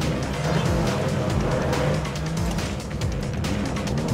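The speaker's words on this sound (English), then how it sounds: "we can move the car on the brakes, drift the car in" A Porsche 911 race car drifts on track, its engine roaring loud and close while the tires squeal in long wavering tones throughout.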